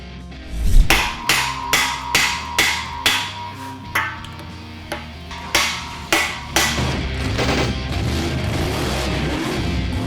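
Core plugs being hammered into an engine block during short-block assembly: a series of about a dozen sharp metallic strikes at a steady rhythm, close and loud, then continuing clanks and shop noise.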